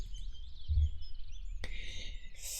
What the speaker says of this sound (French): Avec ces petits bruits d'oiseaux là, un peu partout.